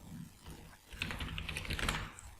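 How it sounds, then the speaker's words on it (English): Typing on a computer keyboard during a Cyberpunk 2077 color-change tutorial: a quick run of light, close key clicks and taps lasting about a second and a half, alone with no talking. "Double click on it and start typing"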